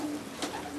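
A racing pigeon at a loft gives a brief, soft, low coo, faint and close against quiet room noise.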